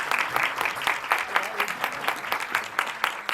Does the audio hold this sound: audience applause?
yes